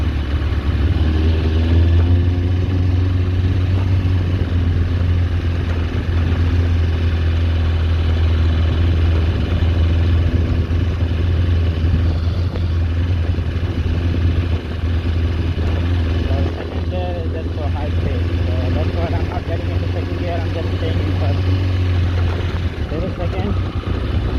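A scrapped Kawasaki ZX4 motorcycle engine runs at a steady, loud, close idle with a deep throbbing drone throughout, while someone talks over it.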